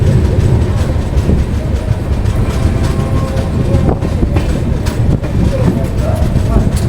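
The Mewar SF Express train rolls into Bayana Junction in fog, a loud, continuous rumble and rattle of the moving train heard from on board, with occasional clicks and faint squeals; voices are mixed into the noise.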